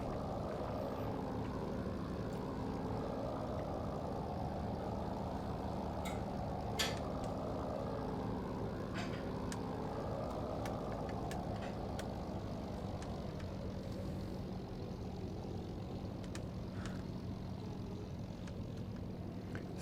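A Spitfire IXe's propeller engine idles and rumbles at steady power while taxiing on an airfield in the IL-2 combat flight sim, a continuous close drone with faint clicks and rattles over the top.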